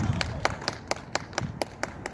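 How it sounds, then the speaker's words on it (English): Sparse applause from a small audience at a sea lion show at Blackpool Zoo, a handful of separate claps ringing out at irregular intervals, fairly close, against a faint background murmur. "Give her a nice big round of applause"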